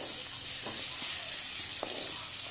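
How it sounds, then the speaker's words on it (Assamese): Upma ingredients stirred in a hot pan, a steady broadband sizzle with a few soft scraping knocks from the spoon, close and continuous with no talking. "তাৰপিছত মই অকণ ভালকৈ লৰাই ল'ম।"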